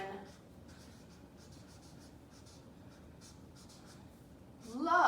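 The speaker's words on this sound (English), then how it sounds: "Let's write it." A sentence being written by hand in a classroom lesson, faint light scratching strokes in short bursts, with a voice starting up briefly at the end.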